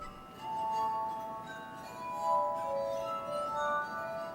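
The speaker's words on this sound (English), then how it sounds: "I keep the glass harmonica in the 21st century culture" A glass harmonica played in sustained, bell-like glass tones, several overlapping pure notes ringing one after another over about four seconds, close and clear with no talk.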